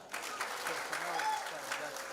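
Steady applause from a graduation crowd at Mildmay Institute of Health Sciences runs throughout, partly under someone talking over a public address system.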